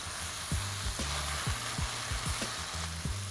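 Vegetables for chilli baby corn being tossed and fried in a hot pan with pepper and salt, a constant sizzle marked by repeated rhythmic thuds and scrapes of tossing.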